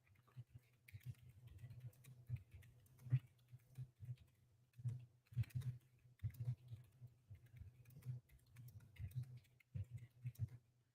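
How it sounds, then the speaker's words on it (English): Quiet typing on a computer keyboard, irregular bursts of soft key taps with brief pauses, close and faint, no talking over it. "You're just hearing me typing because I'm looking for that quote"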